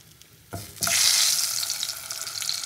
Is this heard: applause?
no